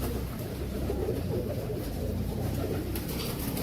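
Royal Teddy and Battery pigeons coo softly in a loft, low murmuring calls blending into a steady background hiss, with no talk over them.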